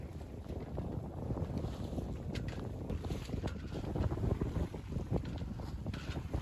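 On a sailboat under way, wind buffets the microphone while the mainsail flaps and rattles with irregular soft knocks and fluttering, a steady rushing roar underneath and no clear voices.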